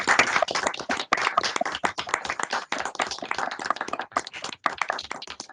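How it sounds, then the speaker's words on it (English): A round of applause at a council of governors meeting: many hands clapping in a dense, uneven patter that holds steady for several seconds, fairly close and lively, with no talk over it. "let's just give Julie another round of applause to say, well done, Julie"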